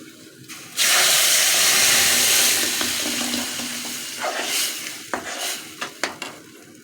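Tomato sauce poured into a hot pan of browned tomatoes for Egyptian koshary, hissing in a loud steady sizzle that slowly fades, with a few sharp scrapes and clinks of a spoon near the end.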